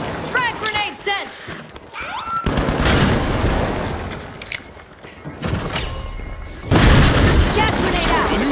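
A frag grenade explosion in the video game The Finals: heavy booming blasts and roaring rumble recur across the clip, loud and close, with dense in-game effects and voices mixed in.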